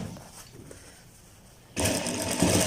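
A sewing machine stitches a ladies suit, quiet at first and then starting up abruptly into a loud, steady mechanical whir that continues to the end.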